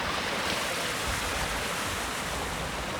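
The Sabinas River flowing past Juárez, a steady, even rush of moving water with no breaks, filling the whole moment with broadband hiss and no voices.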